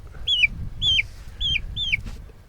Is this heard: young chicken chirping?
yes